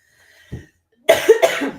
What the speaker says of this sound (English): I keep coughing and need some water